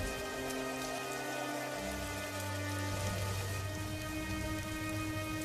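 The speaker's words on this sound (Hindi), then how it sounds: "देखते ही देखते भयंकर बारिश शुरू हो जाती है" Heavy rain pours steadily and loudly on surfaces, a dense continuous hiss with low rumbling thunder underneath, and no voices.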